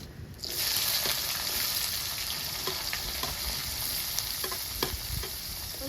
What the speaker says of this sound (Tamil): வெங்காயம் வந்து நல்லா கலர் மாறி இந்த அளவுக்கு வதங்கணுங்க